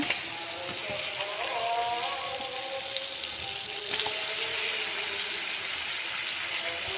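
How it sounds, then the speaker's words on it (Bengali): Country chicken pieces sauté in a spiced masala, giving a steady sizzle throughout, with faint music from a nearby festival playing underneath. "এখানে আমি মশলার মধ্যে মাংস দিয়ে কষিয়ে নিচ্ছি।"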